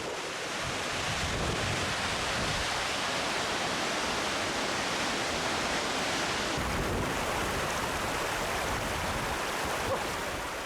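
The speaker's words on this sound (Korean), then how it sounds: "빙하에서 녹은 물이 흘러내려 폭포를 이루고 있다." Glacial meltwater pours down as a waterfall in Kluane National Park, a dense, unbroken roar that stays steady and loud from start to finish, with no voices.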